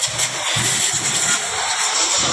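Hino 700 wingvan truck with an E13C diesel engine running steadily, a continuous low rumble with faint rhythmic pulsing under a broad hiss, close and fairly loud, with no talk.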